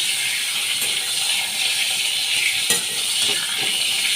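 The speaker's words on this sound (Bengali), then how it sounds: "বেগুন আমি ভেজে নিচ্ছি" Eggplant slices fry in hot oil with a steady, bright sizzle and hiss, close up and continuous, with a few faint clinks from the pan and no talking.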